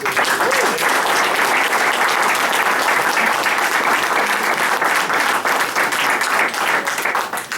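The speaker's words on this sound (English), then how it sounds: "a big round of applause." Loud, sustained applause from a large crowd, steady and dense throughout without a break.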